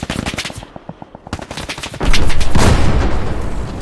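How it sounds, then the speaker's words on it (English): Artillery fire in a first-person shooter video game: rapid bursts of gunfire crackle for the first two seconds, then a heavy, loud explosive rumble from shelling rolls in and lingers. "Fucking artillery."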